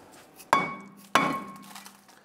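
A hammer bonks a rusted brake rotor on a 1999-2004 Jeep Grand Cherokee hub to free it: two loud, close metallic strikes about half a second apart, each ringing out briefly.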